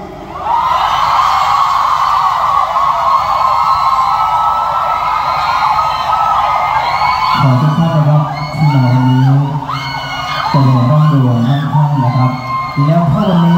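A crowd screams and cheers loudly and without a break at a Thai temple wai khru ceremony. The shrill, sustained yelling builds into overlapping whoops and shouts in the second half.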